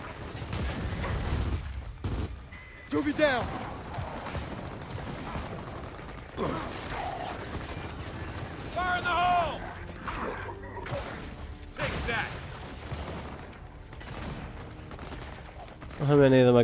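Gunfire and clanking weapon mechanics from Gears of War 4, played on Insane difficulty in Act 3, arrive in scattered bursts of shots and ratcheting clicks over a steady game soundscape, with a few louder cracks near the end.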